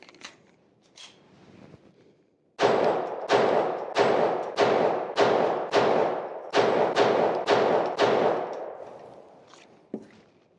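An FN502 pistol fires a rapid string of about a dozen sharp, evenly spaced shots, loud and close, each with a short ringing decay, after a few quieter clicks and handling knocks.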